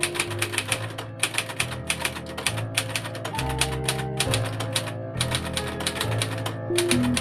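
A 1959 Imperial Good Companion 5 manual typewriter being test-typed: rapid, close key strikes come in quick bursts with brief pauses between them, over steady tonal background music.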